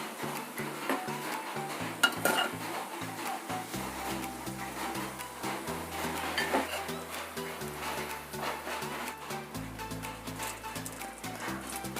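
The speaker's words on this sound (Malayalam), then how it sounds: "കുറച്ച് പുതിനയിലയും കൂടി ചേർത്തിട്ടൊന്നും കൂടി നന്നായിട്ട് ഇളക്കി കൊടുക്കാം" A spoon stirs chilli pork fry with mint leaves in a pan, scraping and clinking softly at close range over low steady music, with no talking.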